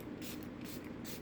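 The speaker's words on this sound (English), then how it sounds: "This is an alcohol-free setting spray." Several quick pumps of a Milani alcohol-free setting spray mist out in close, soft hissing bursts, each a short puff of fine spray.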